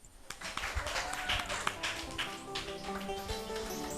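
A studio audience at a singing contest applauds a contestant, steady clapping spread over about four seconds, mixed with music and a little background chatter.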